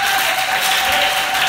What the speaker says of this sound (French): Alors acclamez très fort.